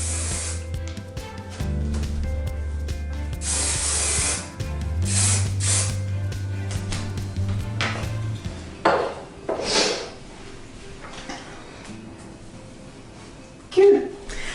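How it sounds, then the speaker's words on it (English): Several short hissing bursts from an aerosol hair spray can, close by, separated by pauses, with a person speaking and low background hum in between. "I lift the hair up, and I spray under it,"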